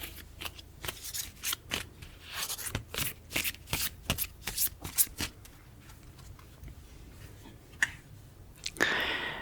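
A handmade deck of moon phase cards being shuffled by hand, crisp close riffling flicks repeating in quick irregular bursts, with a rustling handling sound near the end.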